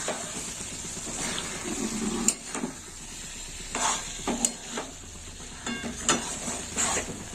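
Khoa kheer and green peas being stirred and pressed in a pan with coriander leaves, giving intermittent scraping clinks and soft sizzling in scattered bursts, close and moderately quiet with no talking.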